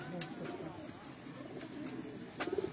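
A pigeon at a rural dera gives soft, low cooing, faint against a murmur of background voices and ambient outdoor noise, with a brief rhythmic coo near the end.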